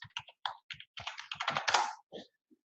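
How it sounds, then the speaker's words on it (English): Rapid typing on a computer keyboard, a quick run of close, crisp key clicks that speeds into a dense burst before trailing off into a few last taps. "I'm just going to type in a travel company I know."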